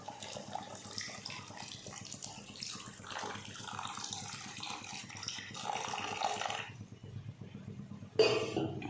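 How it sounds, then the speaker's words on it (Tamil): Ground coconut milk is poured into a simmering egg curry, making a steady watery pouring and splashing noise that runs throughout at moderate level, with a brief sharper splash near the end. "இப்போது தேங்காய் பால், நான் 1/2 மூடி தேங்காவை நல்லா அரைச்சி வச்சுருக்கேன், இது சேர்த்துக்கலாம்."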